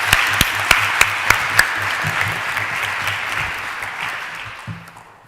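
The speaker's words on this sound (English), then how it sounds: "A big round of applause for all of them," An audience applauds at the final of an international debate tournament. A few sharp, regular claps stand out at first, then the broad clapping fades away toward the end.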